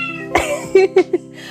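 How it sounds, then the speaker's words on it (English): A cat meows nearby in a few short, clear vocal bursts over a low background hum. "If you hear meowing in the background,"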